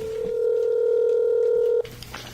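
A telephone call being placed: a steady, loud electronic tone holds for nearly two seconds, then cuts off abruptly into quieter line noise.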